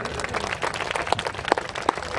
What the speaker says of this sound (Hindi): लेफ्टिनेंट कर्नल सुंदरेशन सर, इनके लिए जोरदार तालियां।